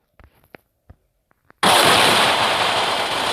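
Gunfire in the video game Ragdoll Playground: a few quiet scattered clicks and taps, then a sudden loud, sustained blast of dense noise that holds steady to the end.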